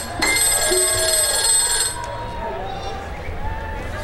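A telephone bell rings at the start of a song, a bright, fairly loud ring lasting about two seconds before it cuts off, leaving low sounds and faint tones behind.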